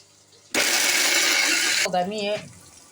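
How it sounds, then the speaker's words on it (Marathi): A mixer grinder grinding roasted pigeon peas whirs loudly for over a second, then stops abruptly; a voice speaks briefly after it cuts off. "आपण आता याला मिक्सरमधून बारीक करूया."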